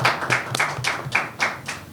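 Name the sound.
audience clapping for Kajala and Citizen Kona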